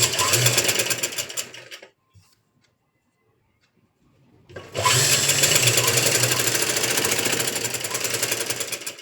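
Sewing machine stitching a blouse hand joint, a loud steady whirring run that stops for a few seconds of near silence, then starts again and runs on close and continuously.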